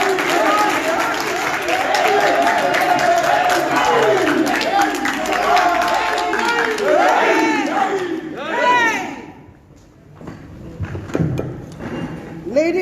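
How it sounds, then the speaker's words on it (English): Round of applause and cheering from a crowd at a Ghanaian nurses and midwives union press event, loud and continuous with voices mixed in, then dropping off sharply into scattered noise and talk. "let me ask that we give a resounding round of applause to"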